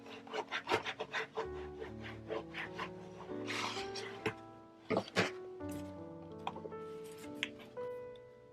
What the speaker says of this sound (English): So I will burnish on the inside as well.